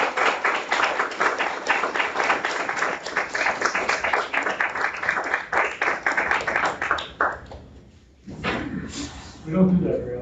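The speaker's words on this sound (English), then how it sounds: "Can I just ask that we give our staff a standing ovation?" Clapping during a standing ovation for staff at a Forest Lake school board meeting, a quick, regular patter of hands for about seven seconds that then fades, with voices talking around it.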